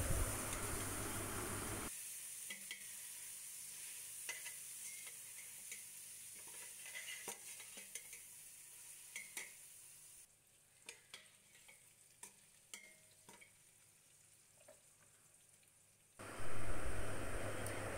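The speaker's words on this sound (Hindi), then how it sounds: "बीफ शामिल करेंगे और इसकी भुनाई करेंगे 5-7 मिनट के लिए।" Beef fries with chopped green chillies, opening and closing on a loud, hissing sizzle, with a quieter stretch between where scattered stirring clinks and spatters stand out.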